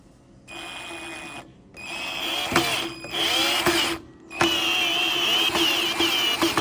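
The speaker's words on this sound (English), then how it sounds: "When I am working with power tools, I make sure that it has a torque setting on it" A power drill with a torque setting drives screws, whirring loudly in three bursts separated by brief pauses, with rising motor pitch and a clicking clutch near the end of each run.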